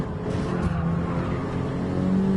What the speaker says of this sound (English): Heavy on the brakes on front-wheel drive car.